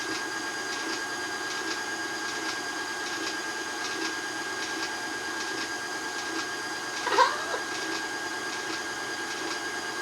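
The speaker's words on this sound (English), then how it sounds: "So we're going to now roll that through our fettuccine cutter." A hand-cranked fettuccine cutter rolls long sheets of pasta dough, giving a steady close whirr with faint regular clicks and one brief louder clatter near the end.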